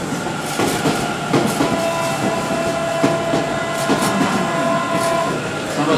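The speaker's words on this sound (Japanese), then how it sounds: "さあ、阪神の電車が来ました。" A Hanshin Railway train pulls into a station, with a steady rolling rumble, rhythmic wheel clacks and metallic screeching tones holding at even loudness throughout, close by on the platform.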